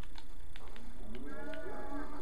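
Cows moo in a video game: a couple of drawn-out, wavering bovine calls stand over a steady synthetic background hum.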